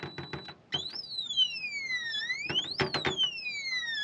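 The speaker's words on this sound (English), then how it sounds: "There's an alarm going off. They've got a built-in alarm on this thing." The built-in alarm of a metal lock box safe goes off after wrong codes are entered, a loud electronic tone sweeping up and down in repeating rising-then-falling cycles and sounding steadily.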